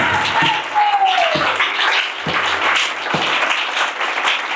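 A church congregation applauds during an energetic worship service, with dense, continuous clapping mixed with voices and cheering, loud and close throughout.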